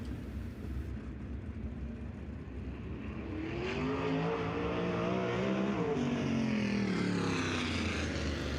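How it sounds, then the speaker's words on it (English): A race car roars down the front straightaway at Eldora Speedway, its engine note swelling loud and steady as it passes close by, with no talk over it. "Brenham Crouch in car number 1"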